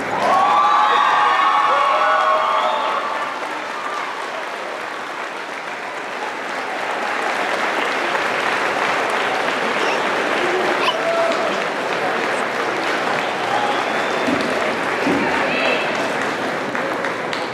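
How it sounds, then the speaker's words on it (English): Thunderous applause from a graduation ceremony audience rises with a standing ovation. Steady, dense clapping fills the room, with some cheering and crowd noise mixed in. "give them a thunderous round of applause and a standing ovation"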